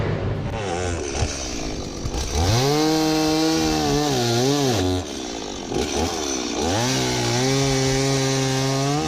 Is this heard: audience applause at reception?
no